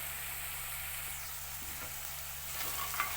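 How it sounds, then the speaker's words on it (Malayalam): Dried fish curry with onions, Sri Lankan style, sizzles in a pan as it is stirred, a steady close frying hiss with faint scraping of the spoon and no talking. "നമുക്ക് ഇതുപോലെ ഇളക്കി കൊടുക്കാം ഒരു പത്ത് മിനിറ്റ് ഇങ്ങനെ സവോള ശരിയാക്കി കൊടുക്കാം"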